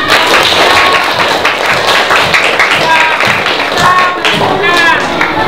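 Fourth-grade pupils clap together in a primary school classroom, a steady and fairly loud burst of hand claps and thumps that lasts throughout, with children's voices mixed in.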